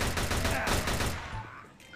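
Rapid volley of gunfire in the Free Fire battleground mobile game, loud and dense shots firing in quick bursts before tapering off near the end.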